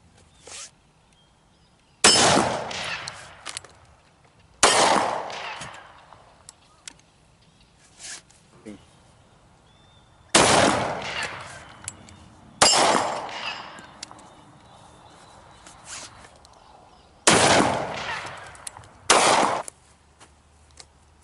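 Scout rifle gunfire on an urban rifle course, with six or seven loud, sharp shots spaced a few seconds apart, each followed by a ringing echo and quieter handling noises between them.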